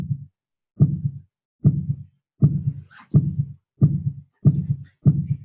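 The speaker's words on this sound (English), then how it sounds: "We start off with a single heartbeat sample." A single recorded heartbeat sample is played back repeatedly, eight deep muffled thumps at a steady, slightly slow pace, each one clean and isolated against silence.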